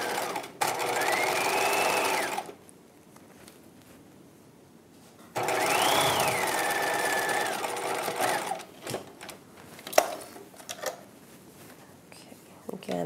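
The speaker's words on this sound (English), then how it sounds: "I'm going to repeat that same edge stitching on all of these channels" A sewing machine edge-stitches boning channels on a dress lining in two loud bursts of rapid whirring separated by a quiet pause, followed by soft handling clicks.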